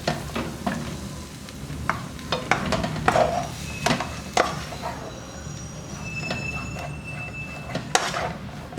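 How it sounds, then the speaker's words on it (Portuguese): Carrots sauté in a pot with a soft background sizzle, broken by repeated sharp clacks and scrapes of a spoon stirring against the pot, close up and without talk. "Porque a cenoura você precisa dar uma refogadinha nela."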